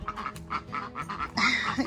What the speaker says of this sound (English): Do you hear them? Hi, ducks.